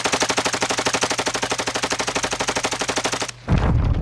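Rapid automatic gunfire in Call of Duty: Modern Warfare II, a loud, evenly spaced burst of shots lasting over three seconds before stopping abruptly, followed by a short low thump or rumble.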